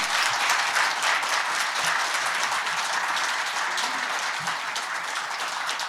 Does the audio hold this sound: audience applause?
yes